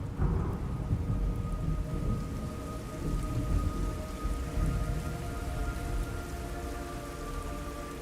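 Steady heavy rain with rolling thunder in the Metal Gear Solid Delta video game, a loud, continuous downpour with low rumbles throughout and a faint sustained musical tone underneath.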